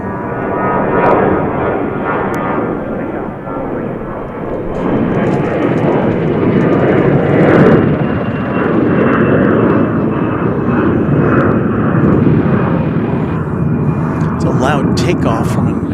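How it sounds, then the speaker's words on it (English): An Airbus A321 jet takes off at DFW Airport, a steady roaring engine rumble heard from a distance outdoors that swells and holds for the whole stretch. "Takeoff from an Airbus A321 headed to San Jose."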